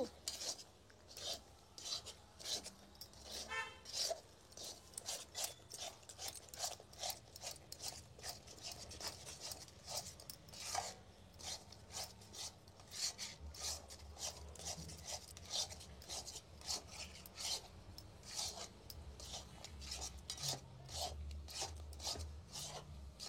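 A thick barfi sandesh mixture with ghee being stirred in a pan, steady repeated scraping and rubbing strokes, close and continuous with no talk.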